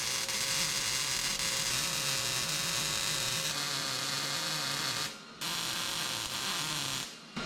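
Welding a patch onto an old Ford F250 crew cab truck gives a close, steady crackling buzz that runs almost unbroken, cutting out briefly twice near the end.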